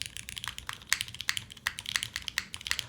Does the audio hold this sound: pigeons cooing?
no